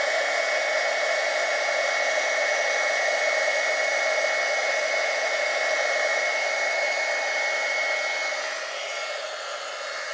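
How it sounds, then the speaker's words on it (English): An embossing heat gun blows continuously to melt embossing powder on a card, a loud, steady, hair-dryer-like whoosh with a constant whine that dips slightly near the end. "now we're going to take our embossing gun and just heat."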